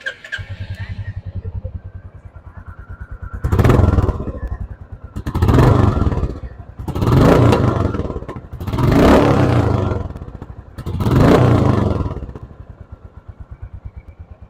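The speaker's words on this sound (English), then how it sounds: "Let me just start the motorcycle for you." A Royal Enfield Bullet 350 motorcycle starts, then its engine is revved in five strong, evenly spaced bursts that rise and fall back to a steady idle. The engine is loud and close, with no talking.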